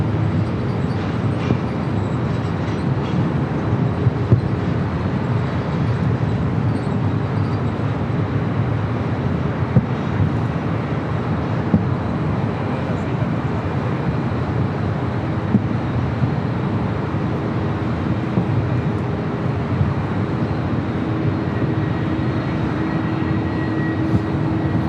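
An Eva Air Boeing 777-300ER arrives at LAX from Taipei, a steady broad jet roar that holds at a constant level throughout, with faint thin tonal whines above the rumble and no voices.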